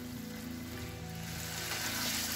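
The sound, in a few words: potatoes frying with spices in a pan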